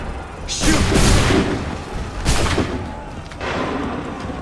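Cannon artillery fires in the game Assassin's Creed III, giving heavy, loud booming blasts with rumbling tails, two big volleys followed by a third, smaller one.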